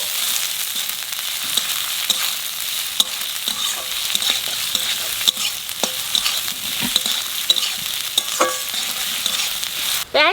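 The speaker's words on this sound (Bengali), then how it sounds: "পেঁয়াজ ভালো করে ভাজে নিছি" Onions fry in a pan for khichuri, a loud steady bright sizzle with frequent ticking scrapes of a spatula stirring them, close and continuous, ending in a sharper clatter.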